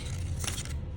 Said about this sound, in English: And your scissors hand is only just chomping up and down and staying straight.